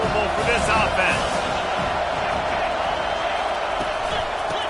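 Steady roar of a football stadium crowd filling the whole stretch, loud and continuous with scattered shouts rising above it, while a commentator's voice runs over the top.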